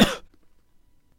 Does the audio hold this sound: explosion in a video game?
no